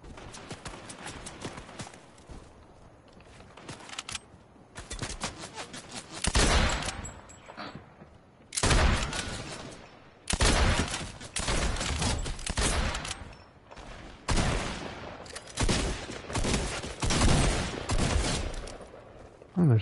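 A new lever-action rifle firing in Fortnite: loud, sharp shots come in separate bursts broken by short quiet gaps, close and punchy, with hardly any talk.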